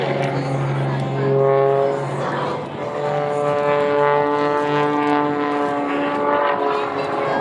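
Aerobatic airplane at an air show pulling through the Cobra maneuver, its engine droning with a shifting pitch, while an announcer talks over a public address system.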